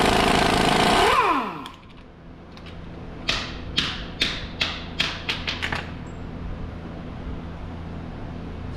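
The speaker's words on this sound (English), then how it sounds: "We remove the lower ball joint bolt." On a 2007 Jeep, the lower ball joint bolt comes out as a loud power tool whirs and winds down. It is followed by a run of crisp, evenly spaced ratcheting clicks, then a quiet background.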